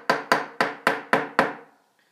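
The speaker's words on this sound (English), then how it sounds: "Sorry, I'm talking over my hammering." A hammer taps frets into a guitar fretboard six times in a steady, even rhythm, each close, sharp wooden knock ringing briefly before the next, then silence.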